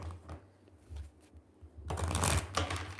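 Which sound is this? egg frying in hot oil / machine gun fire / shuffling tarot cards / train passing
shuffling tarot cards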